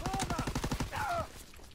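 Rapid burst of MG-81 light machine gun fire in Call of Duty, a dense run of close, loud shots lasting about a second, followed by a brief tonal game sound, with no talking.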